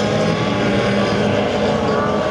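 Autocross race cars, an Opel Kadett and BMWs, at a club race meeting in Ober Ochtenhausen, roar steadily with engines droning close and loud for the whole stretch, with no pause in the noise.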